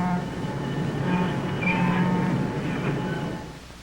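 A train rolls along a railroad track in a short, muffled pass, with a low steady rumble that swells and then fades.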